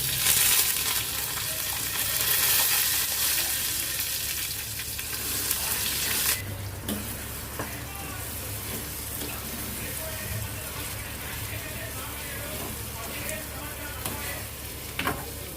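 Coconut chutney, red with mild chillies, sizzles loudly in hot oil in a pan as it is stirred, a dense frying hiss that eases slightly after the first few seconds.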